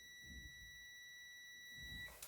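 A multimeter sounds a continuous steady continuity beep for about two seconds while checking wiring in an old Austrian house's electrical installation, quiet with faint handling noise underneath.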